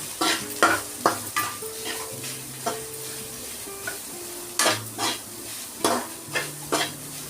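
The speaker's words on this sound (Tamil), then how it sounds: "தேங்காயை நல்லா கொட்டிட்டு நல்லா பொன் வறுவலாக வதக்கணுங்க" Grated coconut frying golden in oil in a pan for chicken kulambu, with a steady sizzle broken by repeated sharp scraping and clinking strokes of a spoon stirring against the metal, close and fairly loud.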